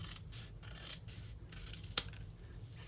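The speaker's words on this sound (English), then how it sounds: "I want to see if I can go ahead and cut this." Scissors snip through a piece of card stock, giving several rhythmic close crisp cuts followed by a sharper single snap, quiet overall with no voices.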